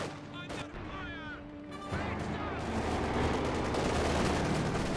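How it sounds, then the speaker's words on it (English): Sniper rifle firing in a Company of Heroes 2 match, a loud sharp report cutting in near two seconds and giving way to dense, sustained battle noise with gunfire and explosions filling the rest. "Sniper firing away."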